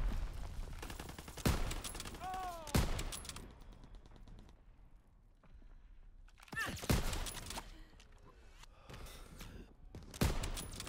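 Gunfire in the World War II shooter Call of Duty WW2: sharp, distant-sounding rifle and machine-gun shots in scattered bursts separated by quiet pauses, fairly faint overall.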